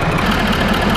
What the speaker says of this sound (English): How we check this is actually by removing the oil cap with the engine running.